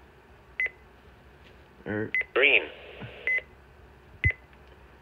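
Several short electronic beeps from a Midland WR-300 weather radio sound at irregular intervals, close and clear, mixed with brief button presses and a few spoken words.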